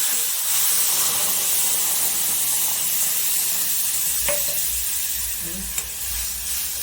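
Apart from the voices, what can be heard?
bottle gourd gravy sizzling in hot tempering with curry leaves and asafoetida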